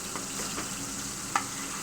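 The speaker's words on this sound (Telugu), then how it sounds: "పేస్ట్ వేసి కలుపుకుందాం ఇది మంచిగా గోల్డెన్ బ్రౌన్ కలర్ వచ్చేదాకా వేగిపోవాలి" Steady sizzling of a ground spice paste frying in a hot pan, with a few faint scraping stirs and one brief clink, no voices.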